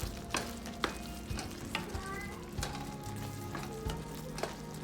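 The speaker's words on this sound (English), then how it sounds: "Let the paneer simmer for about 5 minutes in this gravy" Paneer tikka masala gravy bubbles and sizzles in a pan, a steady low frying hiss broken by a few soft pops and clicks.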